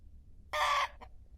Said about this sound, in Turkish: Bu Horoz gibi değil de sanki tavuk gibi gıdaklıyor bu.